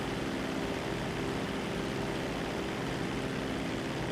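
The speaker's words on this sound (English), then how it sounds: "Always loved this airplane, the S-2 Tracker." Grumman S-2 Tracker twin-propeller airplane in GTA 5, its engines droning in a steady, even hum with a low throb underneath, continuous and alone without voices.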